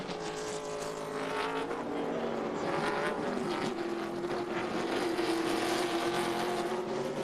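Race cars roar down the straightaway at Sonoma Sears Point during a Featherlite Southwest Tour stock car race, a steady loud engine drone with a rising pitch, no pauses across the stretch.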